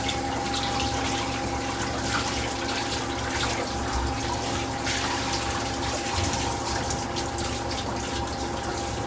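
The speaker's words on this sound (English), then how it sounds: "I'm going to turn the drain on, drain some of this water out," Water running and draining in a grooming tub while a big dog is rinsed during a bath, a steady rushing flow with faint splashes and a low pump-like hum, continuous and close.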